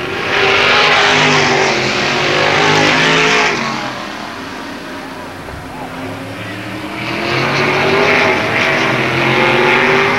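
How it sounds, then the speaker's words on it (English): Sprint car engines roar loudly and continuously in a 1995 Sprint Car Dash at Avilla Motor Speedway, the pack's note swelling, dipping as the cars pass, then building again. "It's Hall in 48, Blake in 81, Bible in 8, and Dernwald in car number 19 in this Sprint Car Dash."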